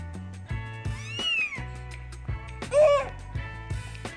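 A kitten meows twice in bright, rising calls, the second louder and closer, over a steady backdrop of music or TV sound with a faint voice nearby.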